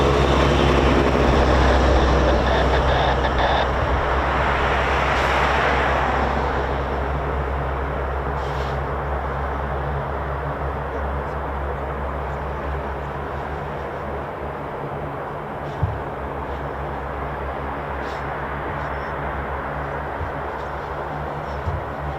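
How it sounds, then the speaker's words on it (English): MC-130J aircraft taxiing at RAF Mildenhall, a broad steady turboprop drone that is loudest at first, then eases to a lower sustained rumble at a distance. "the MC-130J is on the move."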